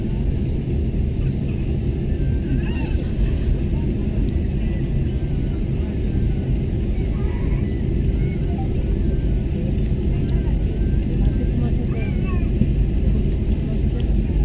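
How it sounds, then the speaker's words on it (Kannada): Inside the cabin of a passenger plane departing Guwahati, a steady, loud, low engine rumble and roar holds throughout, with faint voices murmuring underneath. "ಫ್ಲೈಟ್ ಹೊಂಟೈತಿ"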